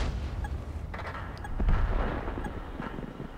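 Tank cannon fire in World of Tanks from a Tiger (P) heavy tank shooting AP rounds, a dull, muffled boom rumbling over continuous low battle noise and engine drone, with no one speaking.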